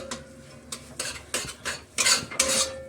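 A spoon scrapes and clinks against a pan while carrot halwa is stirred and roasted, a run of irregular close scraping strokes with no talk.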